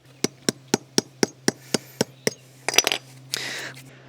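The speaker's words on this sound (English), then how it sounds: "if you take a hammer, it barely makes any dent on it" A hammer strikes hardened two-part resin jointing grout about ten times in a steady rhythm, sharp close knocks, followed by a few quicker scraping, clattering hits.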